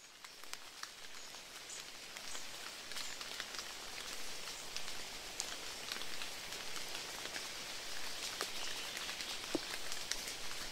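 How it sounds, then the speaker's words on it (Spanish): Rain falls steadily, a soft continuous patter with scattered sharper drop hits, fairly quiet and with no voices. "pude sentir como el agua de la lluvia caía sobre mi rostro"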